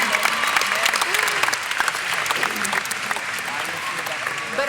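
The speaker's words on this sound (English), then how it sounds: "they need a round of applause" Sustained applause from a graduation audience at a Belton High School commencement ceremony, a dense steady wash of clapping from a large crowd with a few voices and cheers mixed in.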